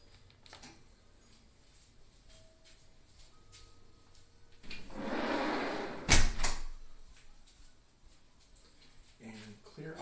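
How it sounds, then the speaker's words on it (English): A back door in a home kitchen swings shut with a brief rush of motion, then a single sharp thud, followed by quiet room sound and a voice speaking near the end. "Close my back door."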